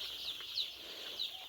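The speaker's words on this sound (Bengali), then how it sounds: "এখানে 1700 কালার বাট মুরগির বাচ্চা আছে।" About 1700 three-day-old colour-bat chicks crowd a winter brooder walled in with sheeting, their high, thin peeps overlapping in a steady chirping chorus with brighter cheeps every half second or so.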